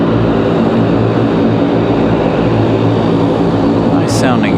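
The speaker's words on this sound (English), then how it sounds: "Nice sounding ATR today. This one coming a little bit closer than the big one did earlier." An ATR turboprop airliner passing near an airport runway, a loud, steady droning roar that fills the whole clip, with a brief higher whine near the end.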